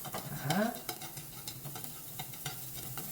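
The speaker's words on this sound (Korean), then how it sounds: "그래서 도라지 볶아줍니다." Soft sizzling of bellflower root stir-frying in a hot pan for japchae, with occasional scraping stirs, quiet and continuous.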